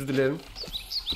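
In the video game Tools Up!, a brief voice gives way to a few light, high bird chirps. They are quick and fairly faint, spaced a little apart.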